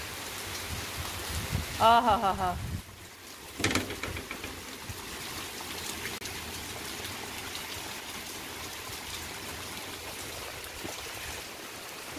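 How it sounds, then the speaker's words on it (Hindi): Heavy rain pours down in a dense, steady hiss that carries on unbroken, while a voice laughs and exclaims briefly near the start. "पूरा तेज बारिश है"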